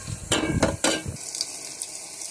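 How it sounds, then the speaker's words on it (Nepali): Lentil dal fries in a hot pan while being stirred, a close steady sizzle broken by a few louder scraping stirs near the start, then settling into a softer hiss. "अब यो दाललाई चाहिँ मजाले तातो हुने गरी फ्राई गर्नुपर्छ।"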